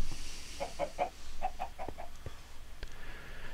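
Chickens cluck in a quick run of short calls from a chicken bomb in a video game, with a few scattered clucks trailing off afterward over a steady background hiss.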